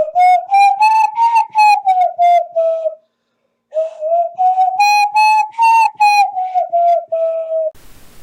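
Hand whistling with the interlocked-fingers technique, bright, loud and close, in two long melodic phrases of sliding, wavering notes with a brief pause between them.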